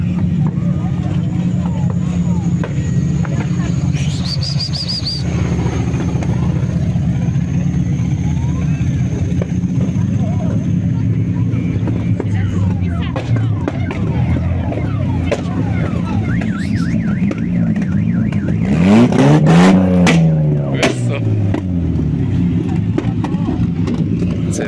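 Powerful 4x4 prototype race cars rumble and pass during a race, with engine drone running throughout, a high electronic whine early on, and a sweeping loud pass near the end while someone talks over the noise.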